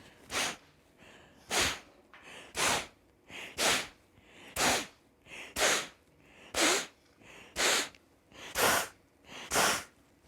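Forceful nasal exhalations of Kapalabhati yoga breathing, about eleven sharp, evenly spaced bursts roughly once a second, close and clear with brief quiet pauses between them and no talking.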